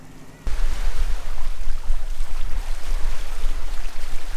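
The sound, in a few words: boat underway through ocean waves and wind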